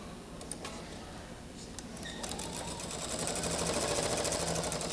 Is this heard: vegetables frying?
no